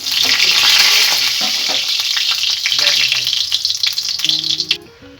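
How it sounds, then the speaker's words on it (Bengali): Cumin and dried red chillies frying in hot oil for palak paneer tempering: a loud, close, dense crackling sizzle that holds steady, then fades out near the end as a voice begins. "এবার আমি সামান্য জিরে আর শুকনো লঙ্কা একটা ফোড়ন দিয়ে দিলাম।"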